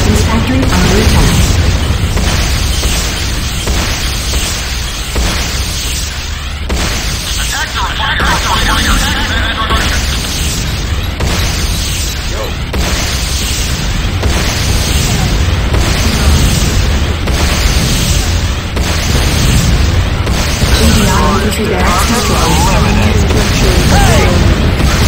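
Booming explosions rip through a GDI weapons factory as it is destroyed in Renegade, a Command & Conquer shooter, with dense continuous blasts and rumble throughout, mixed with game voice announcements.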